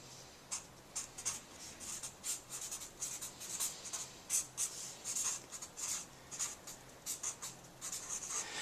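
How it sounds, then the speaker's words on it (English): Pen or pencil writing on paper, a quiet run of short scratchy strokes in an uneven rhythm, close and faint. "That's important enough to write it down."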